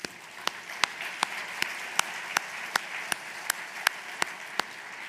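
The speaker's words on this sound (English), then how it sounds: "Join me in please giving them all another round of applause" Light applause from an audience honoring conservation award recipients at a national conservation districts annual meeting: a soft wash of hand noise punctuated by a dozen or so crisp, evenly spaced claps, fairly quiet and with no talking.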